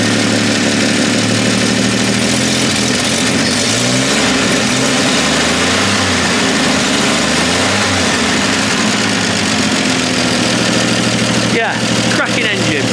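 The 235 cubic inch engine of a 1954 Chevy 3100 short-bed pickup idling steadily with a low, even rumble and slight shifts in tone, while someone talks over it; a brief clatter near the end.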